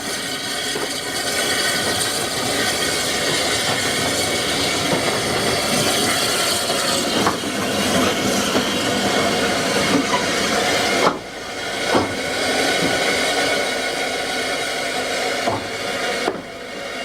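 A North British 0-6-2 tank steam locomotive from 1910 works on a narrow-gauge industrial line at a Spanish iron and steel complex, giving a loud continuous hiss of steam with a few sharp knocks and clanks, and no talk.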